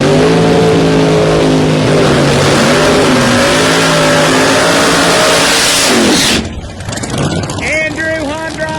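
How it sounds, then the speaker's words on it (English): A ProMod drag race car, the Black Widow Corvette, roars past loud and close at a Bradenton drag strip qualifying session, its engine note bending downward before cutting off abruptly into quieter background noise. "Keith Haney coming by in the Black Widow Corvette"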